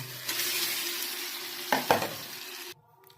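Mashed green pea paste frying in oil in a pan, a continuous sizzle with a couple of louder stirring scrapes, cut off abruptly near the end.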